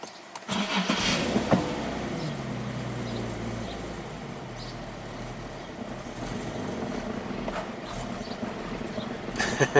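A 2008 Infiniti G37S engine cranks and catches, runs roughly at a low idle with uneven revving from the gas pedal, then falters as it stalls, heard close up.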